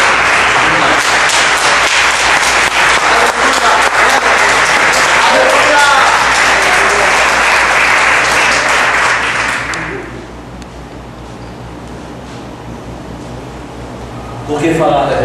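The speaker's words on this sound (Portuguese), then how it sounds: "Vamos aplaudir o Senhor antes de nós orar." A church congregation applauds together in a long, dense, loud burst of clapping that fills the room for about ten seconds, then fades out, leaving a low hum with scattered voices.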